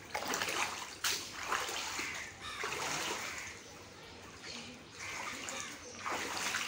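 Rainwater floods around a house after a night of rain, with broad, continuous splashing and sloshing water noise close by, swelling and easing in waves.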